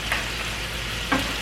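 Fried rice with precooked shrimp hisses in a hot pan with a steady, close sizzle, and two quick scraping tosses break through it.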